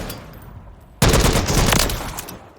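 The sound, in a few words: gunfire from a tactical weapon in Call of Duty Modern Warfare III video game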